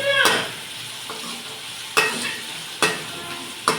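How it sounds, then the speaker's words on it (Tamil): Tomatoes and onions sautéing in a pan for tomato sambar, a close sizzle punctuated by four sharp scraping stirs at irregular intervals. "நல்லா தக்காளி, வெங்காயம் நல்லா வதங்கணும் ஃப்ரெண்ட்ஸ்."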